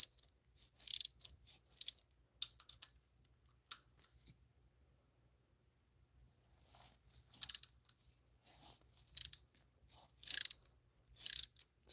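A ratchet wrench clicks in short bursts while loosening rocker arms on a Chevy Astro engine, crisp and close, separated by quiet pauses, with no talking.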